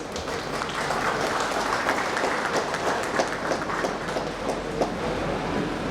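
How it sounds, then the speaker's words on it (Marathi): An audience applauds steadily and evenly at the opening ceremony of a cultural hall, where guests are being welcomed with a memento, shawl and bouquet. "जोरदार टाळ्या होत्या."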